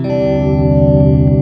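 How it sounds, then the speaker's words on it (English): A single sustained guitar note through a Dunlop MXR Layers pedal with a thick, deep sub-octave layer underneath, processed and slightly chorused, loud and steady. "you can actually do a root note sub-octave"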